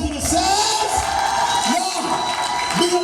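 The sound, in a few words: audience cheering and clapping at comedy show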